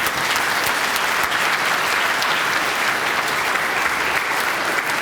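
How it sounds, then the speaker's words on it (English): Sustained audience applause at a hall of fame induction ceremony, a dense, steady wash of many hands clapping at close range with no talk over it. "Another round of applause."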